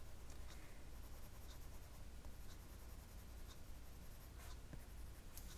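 Prismacolor colored pencil scratching over paper in steady layering strokes, a soft continuous scraping texture with occasional sharper flicks, close and quiet, no voices.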